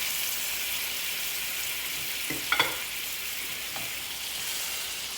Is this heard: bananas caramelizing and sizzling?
yes